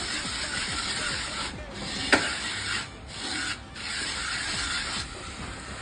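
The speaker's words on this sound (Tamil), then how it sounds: "இந்த தோசை எந்திரிக்காதப்போ நைஸ் உப்பு பாருங்க இப்படி போட்டுக்கோங்க. நல்லா சூடுபட இதெல்லாம் தடவி விட்டுருங்க." Fine salt is rubbed across a hot dosa tawa, making a soft, continuous gritty scraping in repeated strokes. A few short pauses and one sharp tick break it up, and the sound is fairly quiet.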